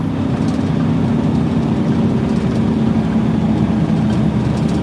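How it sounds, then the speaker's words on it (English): A heavy truck running with its engine brake on gives a steady, loud, deep rumbling drone that stays even throughout, with no talk. "Put our engine brake back on."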